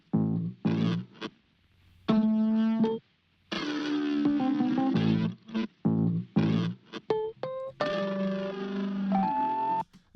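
A processed, lo-fi instrumental phrase through a tape emulation effect, with warbling pitch, gritty noise and abrupt dropouts where the sound cuts out, stopping and restarting several times.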